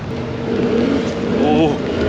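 A motorboat runs fast across the water with a loud, continuous engine roar close by, together with rushing water noise and wind buffeting.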